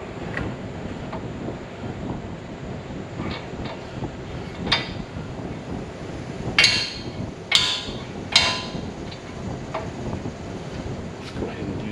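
Metal hammer strikes ring out while a ball joint is reinstalled on a Jeep Wrangler JK, a few separate sharp blows and a quick cluster of three louder hits over low outdoor background noise.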